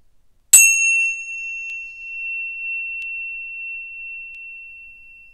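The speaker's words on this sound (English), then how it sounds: "when you hear the bell, do a big breath in and out" A single clear bell is struck once, ringing out sharply and then fading slowly in a long, pure sustained tone in otherwise silence.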